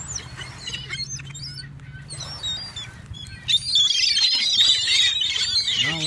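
Seagulls being fed in Traverse City, with scattered chirps and squeals that swell into a dense, loud chorus of shrill squealing and wing flapping in the second half, outdoors.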